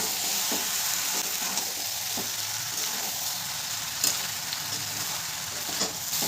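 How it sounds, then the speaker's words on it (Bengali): Fried chicken is stirred into a bubbling gravy in a pan for chili chicken, a dense continuous sizzle with occasional louder spatters and a few spoon knocks, heard close and with no voices. "এরপর দিয়ে দেবো ভেজে রাখা চিকেনগুলো। চিকেনের সাথে গ্রেভিটাকে ভালো করে মিশিয়ে নেব।"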